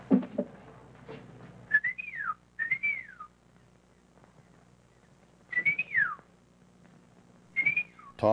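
A person whistles signal calls outdoors in a 1955 film of Huckleberry Finn, short rising-and-falling whistled phrases repeated in several bursts separated by quiet pauses.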